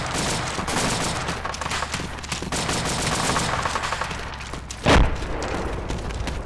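An AA cannon firing in the video game Arma 2, a steady rapid stream of loud shots for about five seconds, capped by one sharp heavy report near the end.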